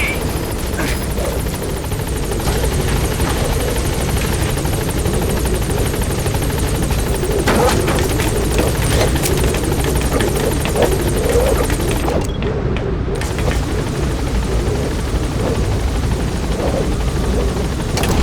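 Pequod helicopter from Metal Gear Solid V hovering at a landing zone, a steady, loud rotor drone that holds throughout with a brief dropout near the end; faint radio chatter underneath.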